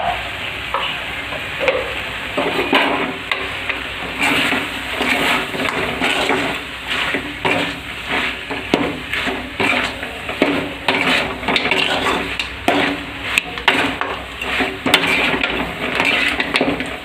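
Pork fry is stirred in a pan, a busy rhythm of metal spoon scrapes and clanks over a steady sizzle, loud and close throughout.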